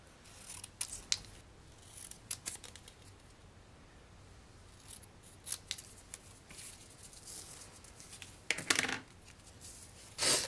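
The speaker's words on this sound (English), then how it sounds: "Now we're going to take these two Designer Series Paper strips and we're going to cut them into banners." Scissors snip through strips of Designer Series Paper to form banners, giving a series of crisp, close cuts spaced irregularly, with a sharper cluster of snips near the end over quiet room tone.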